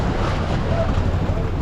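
Choppy sea at dawn washing against a small fishing boat off Buya, a steady broadband wash of waves and wind rushing continuously close to the microphone, with a low rumble underneath and no clear speech.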